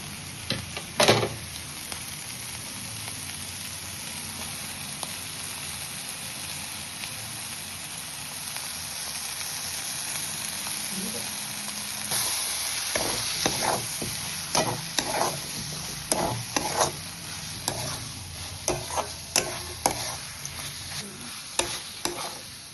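Ground spice paste frying in a pan with soybean chunks and potato, a steady low sizzle underneath with occasional louder scrapes and stirring knocks building in the second half.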